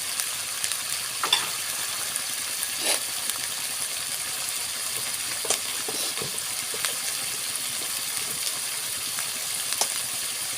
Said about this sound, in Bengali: আমি মশলাটা ভালোভাবে কষাই নিব।